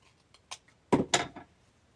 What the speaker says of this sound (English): let's snip that off